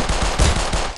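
A quick string of close, punchy gunshots in the mobile shooter Critical Ops, several thumping reports within a second, loud and with no talk over them.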